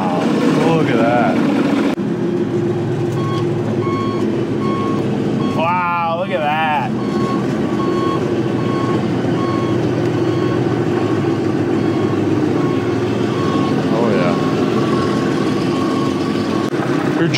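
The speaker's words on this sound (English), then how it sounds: "It's a V6 Mercedes diesel." A bulldozer's V6 Mercedes diesel engine idles with a steady low rumble throughout, while people talk over it and a brief warbling whine rises in the middle.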